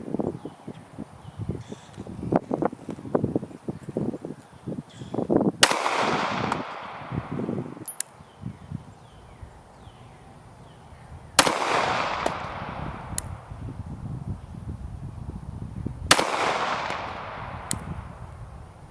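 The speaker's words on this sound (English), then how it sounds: "I'm shooting at the middle target down range." Pistol shots from a Springfield HellCat fitted with a SwampFox Sentinel optic crack out at a backyard range, three sharp reports spaced several seconds apart, each ringing off into a fading echo, with faint rustling between.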